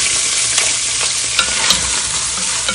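Onion fries in hot oil in a pan, giving a loud, dense, continuous sizzle up close, with a few soft knocks from stirring.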